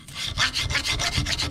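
A small hand file scrapes rust and scale off corroded brake parts in repeated rasping strokes, a steady back-and-forth rhythm that is close and fairly loud with no talking.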